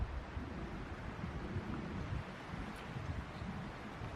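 Wind blows outdoors in a steady, low rumble against the microphone, with constant buffeting and no voices.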